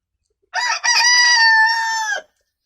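A rooster kept to guard a backyard chicken coop crows once, loud and close, a single drawn-out cock-a-doodle-doo standing alone against silence.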